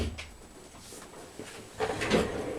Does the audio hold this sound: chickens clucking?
no